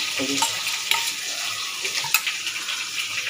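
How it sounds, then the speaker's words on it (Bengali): Powder is stirred into milk heating in a pot, giving a steady close hiss with light scraping and clinking stirs throughout, and no talk. "এবার আমি দুধের মধ্যে মিশিয়ে দিচ্ছি এটা পাউডারটা"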